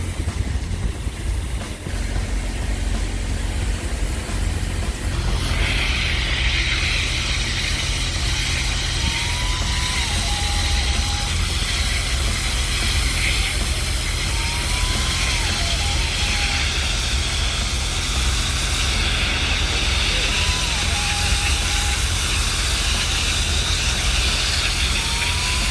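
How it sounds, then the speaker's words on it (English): A loud burner roars steadily while heating water into steam for graffiti removal, a constant dense rumble with a hissing layer joining after a few seconds and faint intermittent tonal chirps over it. "You can hear the burner in the background heating the water."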